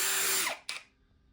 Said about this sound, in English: we're going to drill straight through those 2 pilot holes that we drilled